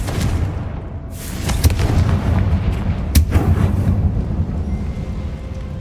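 A Confringo fire blast spell cast in the video game Hogwarts Legacy, a loud, dense rumbling burst with two sharp cracking blasts rising out of a continuous roaring boom.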